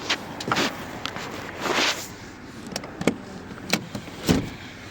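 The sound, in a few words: Toyota Vellfire rear seat folding down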